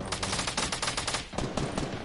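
Rapid SMG fire in a Fortnite Battle Royale squad match, a fast continuous rattle of shots with a brief pause midway before another burst, moderately loud with no talk over it.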